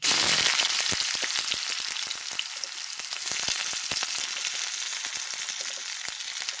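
Bay leaf and nigella seeds frying in hot oil, a loud, steady crackling sizzle with dense popping spits, close up and continuous throughout, no talk.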